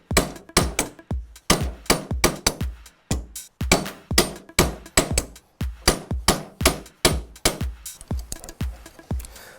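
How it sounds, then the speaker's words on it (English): Metal hammer blows strike a bangle blank on a steel forming die in a steady, rapid rhythm of about thirty sharp ringing impacts. The impacts are close and loud, with no talking. "We basically would measure in about 40mm and start hammering from"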